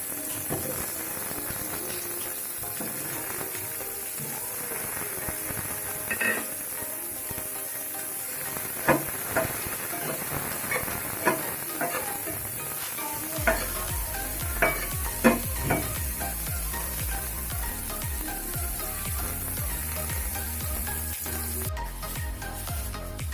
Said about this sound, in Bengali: এখানে বিরিয়ানির জন্য আমি আলু ভেজে নিচ্ছি